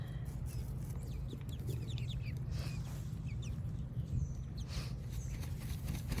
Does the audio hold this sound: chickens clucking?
yes